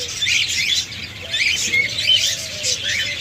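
Many small caged lovebirds, Java sparrows and budgerigars chirp and tweet continuously, a busy overlapping chatter of high calls close by, with a faint low hum underneath.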